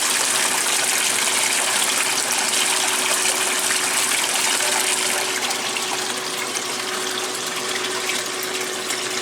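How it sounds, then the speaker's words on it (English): Water pours and gushes steadily as a 1996 Maytag Dependable Care Plus washer drains during its spin cycle, a loud continuous rush with a faint motor hum underneath and no voices. "the Maytag competitor does do a spin drain, so it speeds up the cycle a bit faster"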